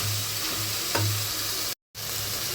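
Mint leaves sauté in an oil-filled pan while cooking vegetable nonbu kanji, giving a steady, close crackling sizzle with a faint stir, briefly cut off for an instant before resuming.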